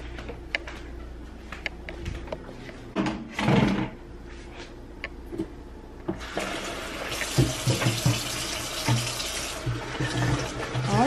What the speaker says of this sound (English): Alright, so I'm about to put some water in here